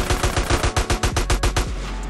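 An AK rifle in GTA San Andreas fires a rapid burst of about twelve loud, evenly spaced shots, then stops, leaving a brief low rumble.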